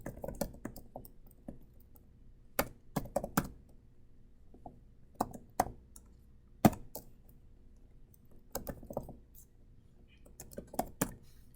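An email address typed on a computer keyboard for an online visa form, clicking keystrokes close by in irregular bursts separated by quiet pauses.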